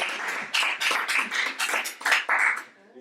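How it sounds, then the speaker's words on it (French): A small audience at a slam and poetry evening applauds Francis after his Christmas poem, a few hands clapping in uneven bursts at close range before trailing off near the end. "Vous pouvez encore applaudir Francis et son poème de Noël"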